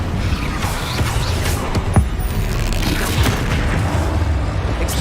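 A fire spell cast in the video game Hogwarts Legacy, a dense, continuous roar of booming bursts and crackling flame with a sharper hit near the middle, loud and filling the whole moment.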